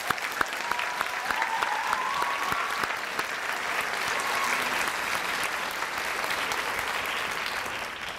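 Sustained applause from a school-district audience honoring three Teacher of the Year candidates, a dense steady clapping that holds evenly for the whole stretch with a few sharper claps near the start.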